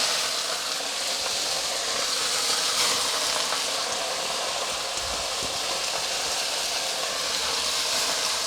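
Jute leaves added to a hot pan for a stir-fry with mung dal hiss and sizzle steadily in a loud, continuous frying crackle that holds throughout.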